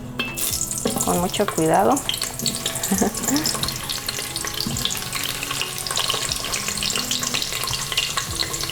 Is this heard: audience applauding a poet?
no